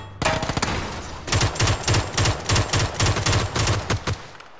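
Gunfire in the video game PUBG: rapid automatic bursts crackle in close, loud clusters, a short opening volley followed by a longer run of repeated shots.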